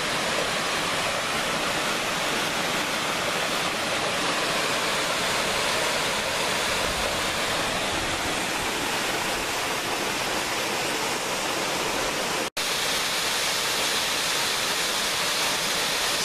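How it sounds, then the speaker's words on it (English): A waterfall on the River Swale near Keld roars steadily and loudly nearby, a dense unbroken wash of falling water with one brief click partway through and no voices. "Found another waterfall close to the village of Keld,"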